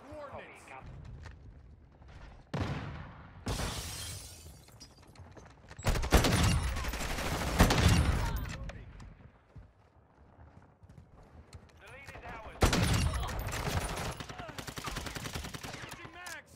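Sniper rifle fire in the Modern Warfare 2 video game: several loud, sharp shots spaced seconds apart, each trailing off, over quieter in-game background noise.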